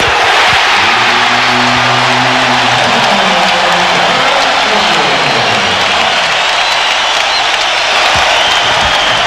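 A large arena crowd at a 1998 Los Angeles Lakers playoff basketball game against the Portland Trail Blazers roars and cheers loudly and continuously, with whistles and sustained tones from the stands.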